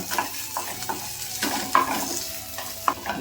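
Roasted gram being stirred through a hot tempering with wilted curry leaves in a pan, spoon scraping and knocking in a few irregular strokes over a soft, faint sizzle.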